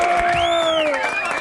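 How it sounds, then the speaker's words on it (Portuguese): A live studio audience cheers for a guest, with sustained whoops and shouts that rise and fall over a bed of crowd noise and light clapping. "Alex Rufo, uma salva de palmas pra ele."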